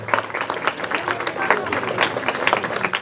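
A congregation claps loudly at a church house-warming celebration for Mother Mary in Vegeswarapuram, Eluru, with dense, uneven hand claps from many people and crowd murmur mixed in.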